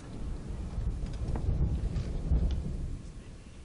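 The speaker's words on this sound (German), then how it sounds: "Ihr wollt in einen Sturm hineinsegeln?" Storm at sea in Assassin's Creed 3, a steady roar of wind and rumbling thunder with rain-like hiss, loud and continuous, swelling in the middle, with no voices.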